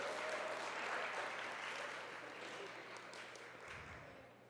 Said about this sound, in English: give your parents a round of applause for what they do for you